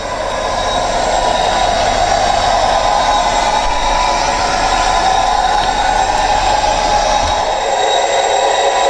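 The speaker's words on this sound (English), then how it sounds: "the sound's sitting there chugging away, but there's no movement" Hornby HM7000 model locomotive sound decoder chugging steadily and loudly while the model sits without moving, a continuous droning rail sound with no speech.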